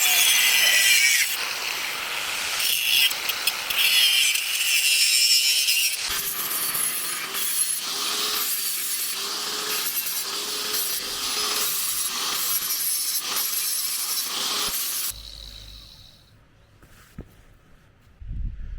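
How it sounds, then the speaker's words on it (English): Angle grinder fitted with a flap disc cleaning up the cut end of a steel exhaust pipe for a Nissan Patrol, a loud, steady abrasive grinding that runs for about fifteen seconds before stopping, leaving quiet workshop sounds. "I'm just going to get the grinder and clean up the end and then probably get a flapper disc onto it and just clean up all the edges"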